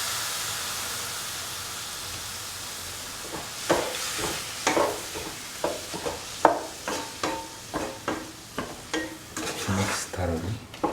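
Prawns are stirred into a hot pan of onion, garlic, ginger, green chili and turmeric for a pumpkin shrimp stew. A soft sizzle builds under repeated scraping strokes of a spoon against the pan, coming in an uneven, close rhythm.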